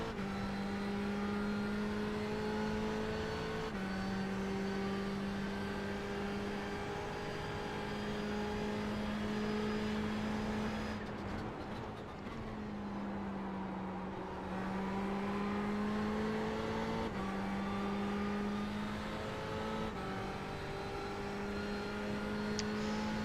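A Ferrari 488 GTE race car and others scream past at Monza, steady high-pitched engine drones shifting through gears, loud and sustained, with a whooshing pass in the middle.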